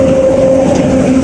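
A train pulling into a railway station, a steady loud rolling rumble with a sustained tonal whine, no voices over it.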